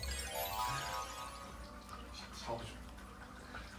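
Faint running water, like a shower heard from another room, hissing steadily with a few drips and soft background voices.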